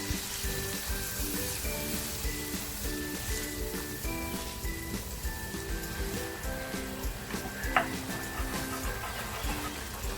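Water splashed into a frying pan of dhaba-style fried cluster bean (gavar) sabzi sizzles steadily and close for about ten seconds, a dense hiss with light stirring clinks and no talking.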